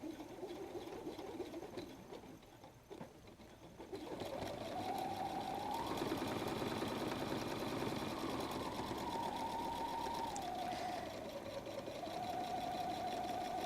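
A sewing machine stitches at a 2.5 stitch length on a messenger bag, starting with a quieter stretch and then running steadily and loudly, its motor pitch dipping and rising as it back stitches.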